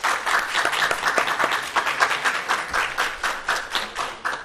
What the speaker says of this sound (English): can we give a round of applause and a big welcome to the folks that are joining us here today?